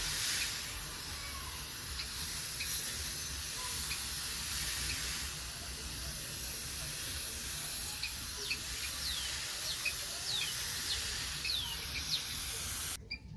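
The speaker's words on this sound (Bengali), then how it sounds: "এবার আমি জল দিয়ে দিচ্ছি" Capsicum plants growing in a sack on a rooftop garden being watered, a steady broad hiss of water spraying that continues without a break, with faint bird chirps in the background.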